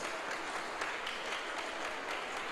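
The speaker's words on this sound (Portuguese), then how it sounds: "Uma salva de palmas aí, em nome de Jesus." Congregation applauding during a church service, a dense, steady wash of clapping from many people at moderate volume with no distinct voices.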